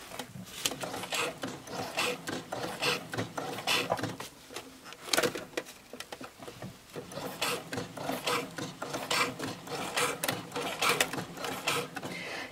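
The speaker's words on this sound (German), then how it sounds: "Jetzt wird noch einmal abgenäht, füßchenbreit über der Naht, die ihr eben genäht habt." A sewing machine runs fast and continuously while topstitching a seam on a fabric tote bag, giving a steady rasping, mechanical whir with no talk over it.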